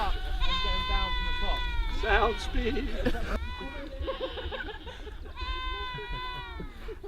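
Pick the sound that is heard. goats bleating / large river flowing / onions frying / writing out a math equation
goats bleating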